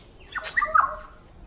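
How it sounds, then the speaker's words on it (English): Birds calling in a public park in Australia, a short burst of bright chirps and squawks up close over a quiet background, with no one talking. "listen to the birds. The birds in Australia are magical."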